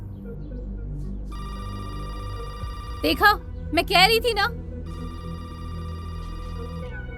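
A telephone rings steadily in repeated tones, briefly interrupted while someone speaks, then continues ringing on its own.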